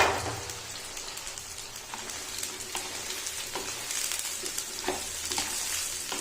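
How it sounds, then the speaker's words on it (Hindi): Chopped onions frying in oil in a kadai over medium-high heat, a dense, rain-like crackling sizzle with occasional spoon scrapes, close and steady with no voices. "इनको हमने फ्राई कर लेना और गोल्डन ब्राउन नहीं करना,"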